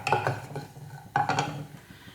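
Cashew nuts are stirred in a pan with ghee, giving two bursts of clinking, rattling scrapes about a second apart, close and clear with no talk.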